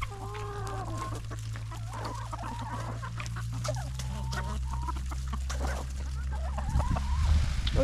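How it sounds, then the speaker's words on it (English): Farmyard chickens being fed corn cluck and chatter steadily, several birds close by making repeated short calls over a low droning hum, with a louder burst of noise near the end. "We gave the chicken some corn."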